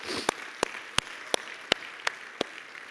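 Slow rhythmic clapping at a church retreat, seven sharp, evenly spaced claps about a third of a second apart over a quiet room, moderately close.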